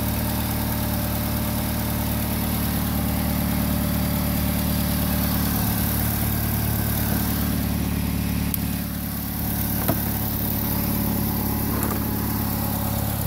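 A Chevy Malibu car engine idles in a steady, even mid-pitched hum with a slight vibration, running continuously at moderate loudness with no voices.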